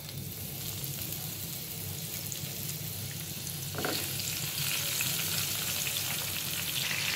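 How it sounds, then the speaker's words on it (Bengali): Potato roll chips deep-frying in oil, a steady dense crackling sizzle that swells louder midway as more rolls drop in, continuing close and unbroken with no voices. "পাইপে আমি তেল দিয়ে দিলাম। বিসমিল্লাহ।"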